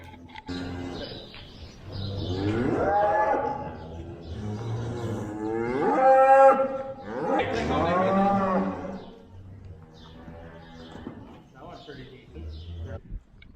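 Several cows moo in long, drawn-out low calls, one after another, fairly close, with livestock noise around them.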